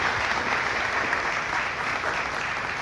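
A crowd at a Catholic youth-ministry gathering and debate in Port-au-Prince applauds a reverend with steady, dense clapping that holds at an even level throughout, with no voices rising above it.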